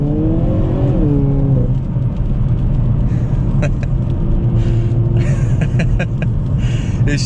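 A 2022 Hyundai Kona N SUV, front-wheel drive, pulls hard at full throttle with a loud, steady engine drone and rising revs heard from inside the cabin, with some wheelspin and an occupant's brief exclamation.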